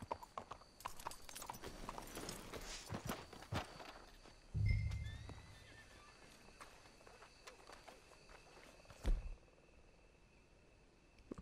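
Horse hooves clip-clop steadily at a walk in Red Dead Redemption 2, with a louder thump midway and another near the end; a faint neigh and occasional voice sit in the background.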